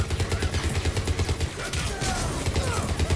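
Rapid gunfire rattles in a firefight aboard a ship's command deck in the video game Mass Effect 3, bursts of quick, loud shots with deep thumps, steady and close.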